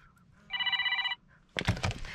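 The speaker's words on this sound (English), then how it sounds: "Oh, phone's ringing." A mobile phone rings with a single electronic trill burst, close but soft, inside a parked truck in Alamo, Nevada, followed by rustling handling noise.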